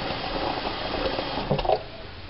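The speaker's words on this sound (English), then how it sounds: "to fill it full of water" Tap water runs steadily into a cooking pot in a kitchen, a close, continuous splashing rush that swells slightly near the end.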